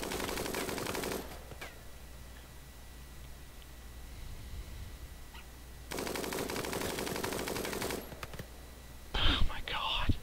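Bursts of automatic gunfire in the Rimworld colony game, two dense stretches of rapid shots separated by quieter background noise, with a brief burst near the end.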